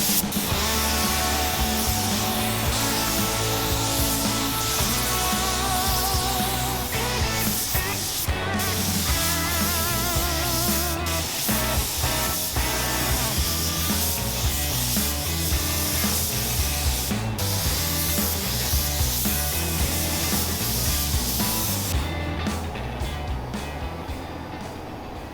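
Gold paint hisses from a spray gun onto a Jeep grill, in long continuous passes with brief pauses and some faint rubbing or tool noises, close up and fairly loud.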